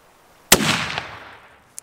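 A single loud rifle shot cracks out during a public-land, high-country mule deer hunt, its boom rolling off in a long echoing decay, followed by a faint click.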